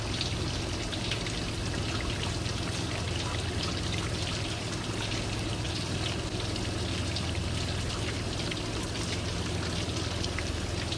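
Rusty coolant gushes out of a 1998 Jeep Cherokee XJ's cooling system during a flush, a continuous loud splashing and pouring stream that holds steady throughout with no speech.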